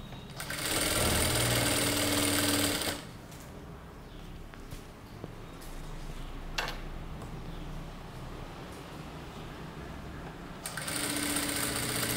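A sewing machine stitches piping along a garment neckline, running loud in a burst at the start, dropping to a quieter hum with light handling noises through the middle, then speeding up again near the end.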